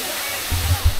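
Weak-flowing waterfall in Bohol, a steady hiss of falling water with a brief low rumble near the end.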